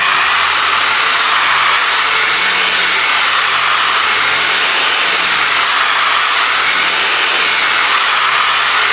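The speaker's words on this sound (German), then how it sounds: "wer etwas fauler ist, kann auch eine solche Rotationsbürste für eine Bohrmaschine nehmen" A power drill spinning a rotary brush across a waxed ski base gives a steady, loud, continuous whirring hiss that holds without a break.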